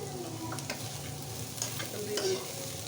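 Potatoes fried with bottle gourd skin and a pinch of cumin powder, a quiet steady sizzle with soft intermittent scrapes and taps of a spatula stirring in the pan.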